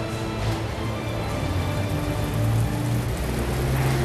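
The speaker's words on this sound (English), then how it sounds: "Now we're testing the enormous rain system." A huge rain machine being tested on a film set with a pirate ship on gimbals, producing a loud, continuous downpour hiss with steady low rumble throughout.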